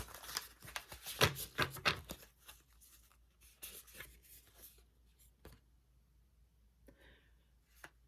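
Tarot cards shuffled and drawn, with a burst of crisp riffling and slapping near the start, then scattered soft card flicks and slides at close range in a quiet room.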